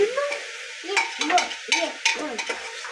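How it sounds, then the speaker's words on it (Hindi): Onions sizzling in a hot pan while a spoon stirs and scrapes in repeated bursts, close and fairly loud. "आगे प्याज ब्राउन हो जाएगा, जब तक भूनेंगे जब तक ब्राउन ना हो जाए"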